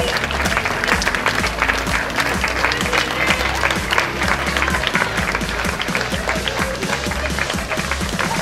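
Audience applause for costumed cosplayers gathered on stage at the Delémont BD comics festival, 2019, a dense steady clapping that fills the whole stretch without pause, loud and close, with a faint low tone running underneath.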